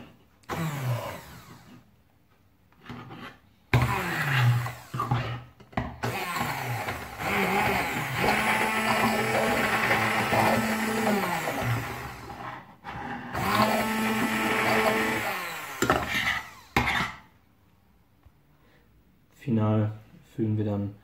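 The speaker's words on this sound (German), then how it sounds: "Gehen jetzt kurz rein mit dem Mixer." A hand blender whirs in several bursts, purees a port and red wine reduction with thyme, a high motor whine that rises and cuts out, with someone talking in the pauses.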